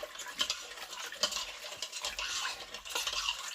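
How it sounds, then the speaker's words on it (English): Bow tie pasta, Barilla, being stirred in a pot with salt, giving a steady run of close, soft scraping and clinking strokes at a low level, with no voices. "And I'm just going to stir this"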